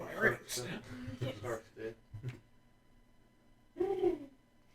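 A person talks, then a voice imitates a dove with a short soft cooing call after a brief pause.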